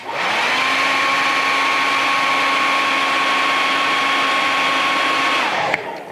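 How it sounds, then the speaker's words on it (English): A hair dryer blows steadily on wet paint on a 1/6-scale vinyl figure kit of Quark and Odo, a loud, even whirring drone held for about five and a half seconds before it clicks off. "Okay, I'm gonna hit that with the hairdryer."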